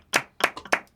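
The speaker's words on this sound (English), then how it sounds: "Got applause on that joke" A few sharp hand claps land in quick succession, close and distinct, in a comedy show setting.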